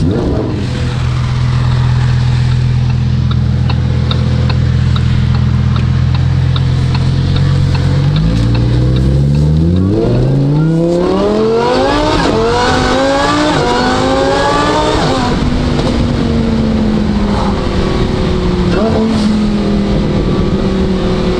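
Lamborghini Huracan Evo fitted with an aftermarket exhaust, loud and close: a deep steady idle, then repeated revs climbing and falling in pitch, easing into a higher droning hold.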